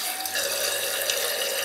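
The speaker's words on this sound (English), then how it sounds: "water refills from this hose, into this tube, out the bottom, refills the tank" Toilet tank refilling with water once the float is pushed down, a steady close hiss of water flowing through the fill valve.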